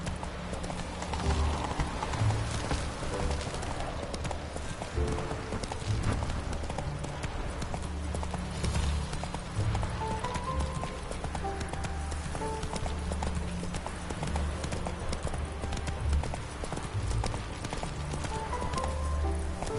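Horse galloping in The Witcher 3 video game: steady, rapid clip-clop hoofbeats run continuously at close range, with no breaks, over a faint background ambience.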